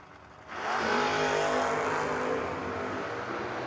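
Mustangs launch at a no-box drag racing event, setting off a sudden loud, sustained engine roar that holds near full strength for several seconds.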